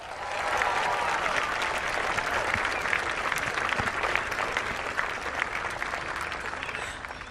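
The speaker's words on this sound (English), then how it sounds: "A big drum roll and a big round of applause as our champion in 2018 joins us, Jin Young Ko." At a golf championship prize presentation, a crowd gives a long round of applause that rises quickly, holds steady and slowly tapers, heard at a moderate distance.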